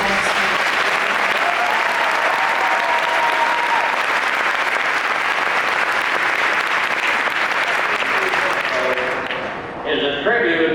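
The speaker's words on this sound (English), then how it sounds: "big round of applause and thanks" Loud, sustained audience applause from a large crowd at a Disney family legacy panel at Destination D23, continuous dense clapping that tapers off near the end, followed by music.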